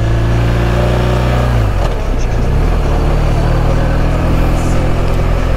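A car drives along a city street in Krk, Croatia, its engine loud and close as it pulls away and accelerates steadily, with a continuous low rumble and rising drone.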